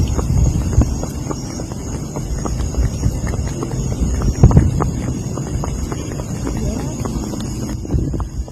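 Horses and ponies ridden in the Carolinas, hooves clip-clopping in a steady walking rhythm close by, with a louder thud near the middle, under a low rumbling background and some voices.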